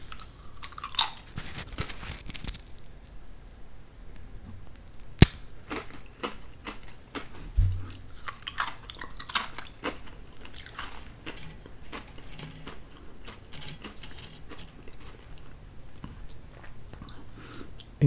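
Original Clover Valley potato crisps crunching and snapping as they are bitten and chewed close to the microphone, with sharp cracks scattered through the chewing noise and no talking.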